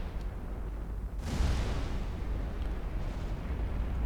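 Warship turrets fire at long range in Ultimate Admiral Dreadnoughts, a 1910 German fleet battle, one heavy boom bursting out about a second in and then rolling into a long, low rumble that does not fade.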